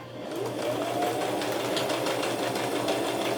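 Sewing machine back stitching the ends of a fabric doll panel seam, a steady close whirring motor hum running continuously throughout without talk.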